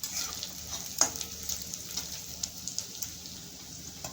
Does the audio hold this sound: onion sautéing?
yes